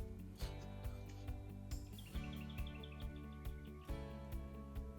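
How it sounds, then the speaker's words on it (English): Birds chirp and tweet outdoors in a garden in February over a steady, droning musical background, with short repeated high calls standing out faintly. "They are out and they are singing a song today."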